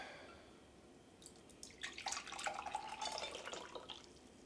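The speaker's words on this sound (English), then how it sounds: "We'll strain out all the big parts." Spiced apple cider toddy strained from a shaker into a warmed glass, the liquid pouring in a soft, steady trickle with faint drips and clinks after a quiet start.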